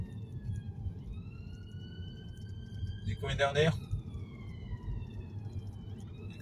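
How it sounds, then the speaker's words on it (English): Ambulance siren wailing on a road near Port Glasgow and Glasgow, heard from inside a moving car, its steady rising and falling tones running through the whole stretch under road noise, with people talking. "It's the ambulance."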